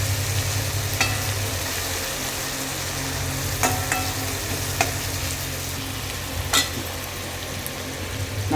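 Ingredients frying in a pan in a home kitchen while a Tamil cook prepares spleen fry and fish curry, a steady close sizzle with a few sharp scrapes of stirring and no talking.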